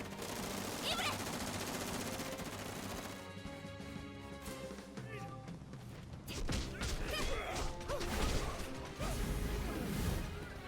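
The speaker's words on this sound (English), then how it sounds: "Oh, they got guns! They got AKs!" AK rifle gunfire in the game Gravity Rush 2, rapid bursts of shots mixed with crashes and impacts over busy game sound, moderately loud and dense in the second half.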